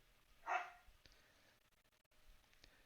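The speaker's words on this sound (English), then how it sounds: "Sorry about my dogs." A dog gives a single short bark indoors, at a distance and fairly faint, followed by quiet room noise.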